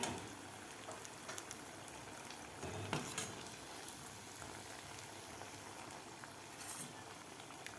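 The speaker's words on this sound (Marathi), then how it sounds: "आपल्याला एक गोल्डन ब्राऊन होईपर्यंत तळून घ्यायचे आहेत" Aloo poha pakoras deep-fry in hot oil until golden brown, a continuous dense bubbling sizzle at low level with occasional faint stirring clinks and no talking.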